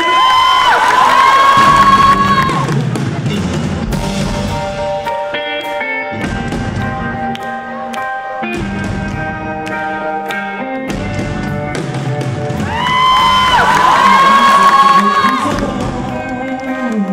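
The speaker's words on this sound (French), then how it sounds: "Je vais vous demander de faire un tonnerre d'applaudissements pour un artiste que j'aime énormément." Concert crowd at the Francos 2013 festival cheering and shouting for an artist taking the Pierre Rapsat stage, a dense roar of voices with two loud swells and high-pitched screams over a continuous wash.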